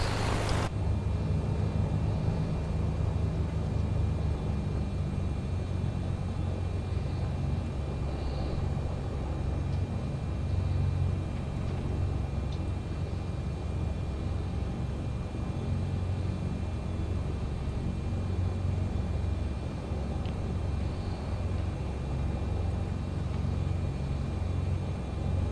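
An airliner in Microsoft Flight Simulator, lined up on Glasgow runway 23: a steady, loud engine roar and low rumble hold evenly throughout, with no talking.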